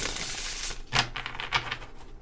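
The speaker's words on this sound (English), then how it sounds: "I have grown fond of this one, the Light Seers Tarot. It's just kind of hard to shuffle sometimes" A Light Seers Tarot card deck is shuffled by hand: a burst of riffling that gives way to several quick, close card flicks and slaps.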